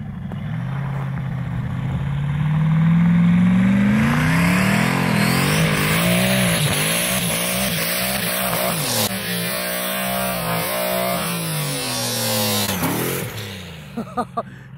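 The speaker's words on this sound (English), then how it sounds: "So he's warming up the car" An LS-swapped Fox Body drag car on ice revs up and accelerates hard, its loud V8 engine rising through gears with a sustained roar, a few sharp pops near the end.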